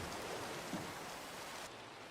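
Steady Minecraft rainfall, a dense even hiss of falling rain that drops slightly in level near the end, with no other sounds standing out.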